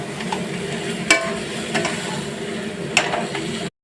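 Mashed boiled potatoes are stirred as they fry in a pan, a steady sizzle punctuated by several sharp metallic scrapes and knocks of the spatula, close and fairly loud, ending abruptly.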